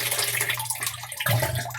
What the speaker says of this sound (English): You hear that big burp at the end where it sucks some water in and you know it's done